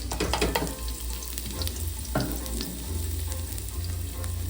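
Homemade enchilada sauce warming and thickening in a pot on the stove, sizzling and bubbling steadily with a few sharp stirring clinks and scrapes, close and fairly quiet, with no talking.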